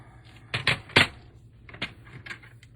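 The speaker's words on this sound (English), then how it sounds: "So let's just give it a little trim." Paper trimmer cutting stamped cardstock for a handmade card, a few sharp slicing clacks close up, with a couple of softer cuts following after a pause.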